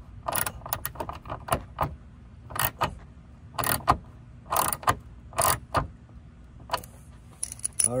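Screws are driven in under a Toyota Corolla while a carbon fiber front lip splitter is installed, with bursts of whirring driver and clicking ratchet noise coming in short, separated pulses close by.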